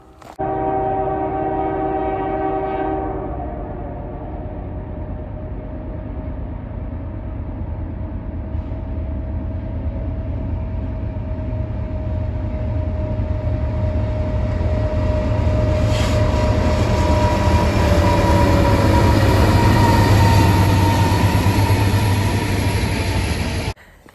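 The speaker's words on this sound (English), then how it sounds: "If any of you guys are keeping score of things that scare Jasper, trains, it's one of them" A train passes at night during an outdoor walk, its horn sounding in long sustained blasts over a steady, loud rumble of rail wheels that builds toward the end.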